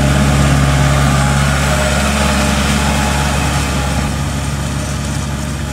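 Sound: Kubota 5018 tractor diesel engine idling

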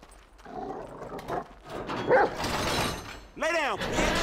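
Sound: dog barking in video game Grand Theft Auto 5

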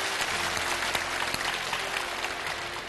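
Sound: audience applause

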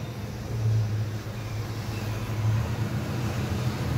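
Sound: OBS Chevy truck pulling in

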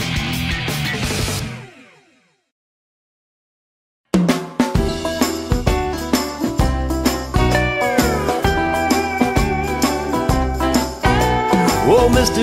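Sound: cat meowing

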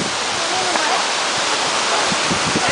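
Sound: Ciberem waterfall on Mount Gede

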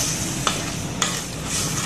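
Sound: vermicelli cooking in milk for payasam

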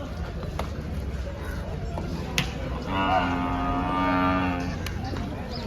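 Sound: buffaloes at a livestock market

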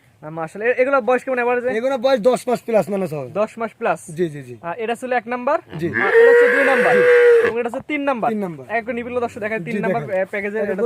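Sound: Holstein Friesian heifer calves mooing

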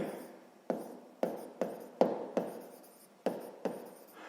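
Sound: writing on paper

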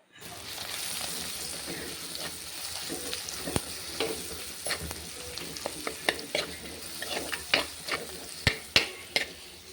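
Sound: frying and stirring chili paste in oil for Kerala fish curry

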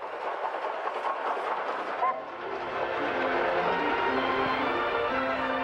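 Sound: train passing on rails

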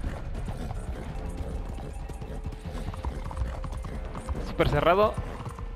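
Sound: horse galloping in a race, Red Dead Online video game

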